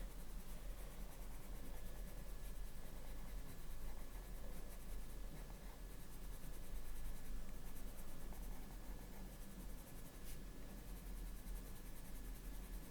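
A blunt colored pencil rubs over coated paper in circular motions, giving a continuous close, soft scratchy shading hiss that runs steadily without breaks.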